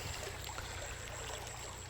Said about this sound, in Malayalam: ഇതാണ് ഞങ്ങളുടെ സ്വന്തം കൈത്തോട്.